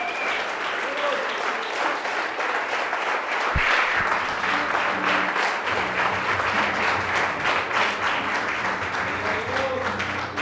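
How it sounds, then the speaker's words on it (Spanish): A church congregation applauds during a worship service, a steady wash of many hands clapping at a moderate distance, with a thud near the middle and voices mixing in. "aplaude al Rey de Reyes y Señor de Señores."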